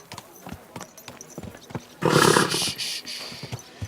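A horse walks on city streets in Kingdom Come Deliverance II, hooves clopping in a steady close rhythm, briefly joined by a loud snort or whinny midway.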